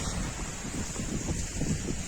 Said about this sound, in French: Du coup, il y a un léger vent.